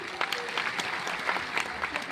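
An audience at a Bihar education event claps briefly, a faint, scattered patter of hands heard from some distance.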